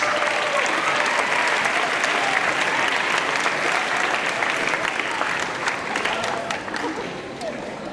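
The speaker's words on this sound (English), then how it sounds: "Give it up for Mr. Juan Cangas" Steady, loud applause from a large crowd at a high school rally, with cheering voices mixed in, holding full strength for several seconds before easing slightly near the end.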